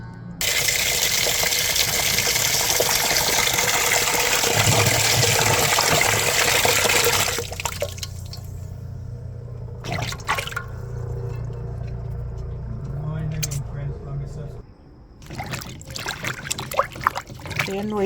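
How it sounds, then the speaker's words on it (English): Dry coconuts being washed in water for Jamaican cassava pudding: a loud, steady rush of running tap water for several seconds, then quieter splashing, sloshing and knocking as they are scrubbed, with talk over it. "So I am basically washing the coconut, getting them clean and nice right over here."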